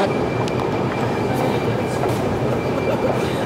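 Metro train running, a loud, continuous rumble and roar of the carriage in motion with faint rail squeals and rattles, heard from inside the car with no talk.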